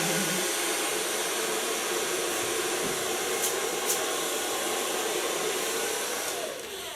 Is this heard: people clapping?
no